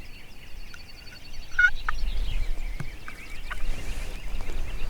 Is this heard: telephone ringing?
no